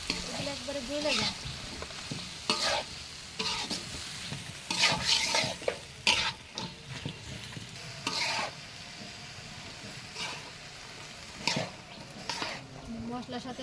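A vegetable curry with spices stirred and fried in a pot makes a soft sizzle broken by repeated scraping strokes of a spoon at uneven intervals, with occasional speech in between.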